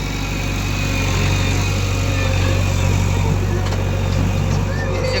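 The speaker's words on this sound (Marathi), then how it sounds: "आपली मशीन आता पाईपलाईन चालू आहे पहा." A JCB machine's diesel engine runs continuously while a pipeline is being laid and levelled, a loud, steady, droning hum close by, with voices talking over it.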